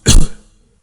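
A man in his sixties coughs in a committee hearing room, a single short, harsh burst that fades fast, close and loud, with no talking.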